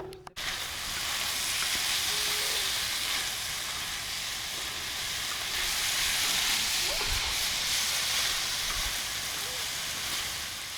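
Funchoza glass noodles frying on a sadj, a steady close sizzle with a constant hiss from start to finish, a few faint clinks over it and no talking.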